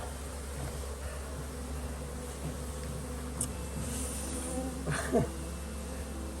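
Wild cavity-nesting bees at a hive in Khao Yai buzz continuously, a steady droning hum close by, with a few louder passing buzzes near the end and no talking.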